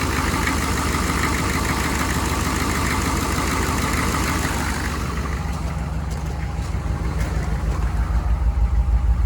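A 6.5L turbo diesel engine idles steadily and loudly after an injection pump replacement, a continuous rough knocking rumble that runs unbroken from start to finish with no voices over it.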